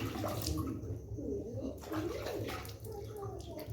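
Water splashes and pours steadily as hands and feet are washed outdoors, a close, continuous wet sloshing with a faint voice and soft bird cooing in the background.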